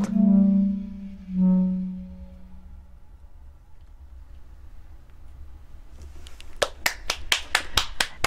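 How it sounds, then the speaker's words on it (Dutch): Applause from an audience after a Dutch poetry reading with music, arriving as a scattered burst of claps that builds near the end, following a low sung or hummed tone that fades out. "Ik wil eigenlijk dat veel meer mensen klappen."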